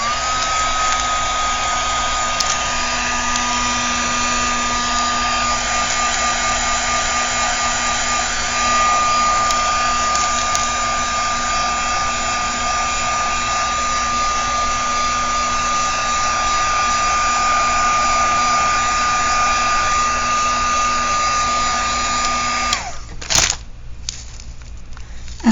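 A heat tool blows continuously and loudly as it dries paint on an aged journal page, a steady whooshing whine lasting over twenty seconds before cutting off abruptly near the end.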